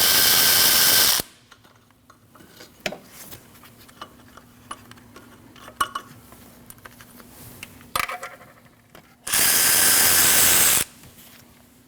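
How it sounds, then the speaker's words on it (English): Removing a 12mm alternator bolt on a 2003-2008 Subaru Forester 2.5L H4 brings quick ratchet ticks and small metallic clicks, framed by two loud, sustained rushing bursts at the start and near the end. "Now you want to remove your 12mm bolt here and here and remove your alternator."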